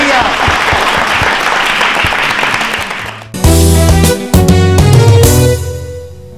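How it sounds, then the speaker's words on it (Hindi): Loud applause from the audience at a Rajasthan state-round election quiz show, a dense wash lasting about three seconds before being cut off by a blaring musical sting. "सबके लिए जोरदार तालियां बजाइए।"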